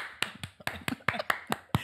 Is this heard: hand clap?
yes